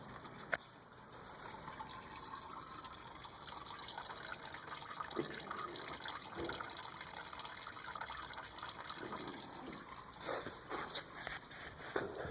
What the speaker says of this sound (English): I'm draining the coolant right now.